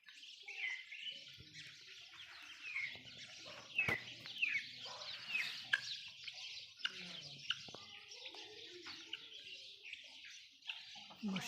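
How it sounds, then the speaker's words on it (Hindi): A pair of chukar partridges calling in a backyard bird collection, scattered high chirps and rasping calls at moderate distance, fairly faint, with a few sharp clicks and light background noise. "ये हमारा चकोर का जोड़ा आ गया।"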